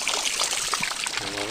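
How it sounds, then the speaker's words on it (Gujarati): Water is poured onto a small fenugreek patch, a steady close trickling and splashing that runs without a break, with faint household background behind it. "હવે મેથીમાં મૂકી દઈએ પાણી"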